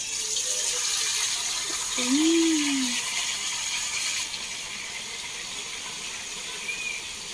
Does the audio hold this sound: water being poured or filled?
yes